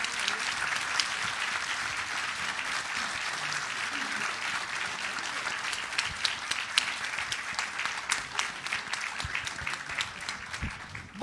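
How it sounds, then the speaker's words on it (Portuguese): Audience applause for a professor at a public debate in Brazil, a steady wash of many hands clapping that holds for about eleven seconds at moderate distance, with occasional louder individual claps near the end. "Então, um aplauso ao professor."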